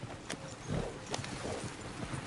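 Horse hooves clip-clop on a road in the Western video game Red Dead Redemption 2, a few close, uneven thuds over soft ambient background.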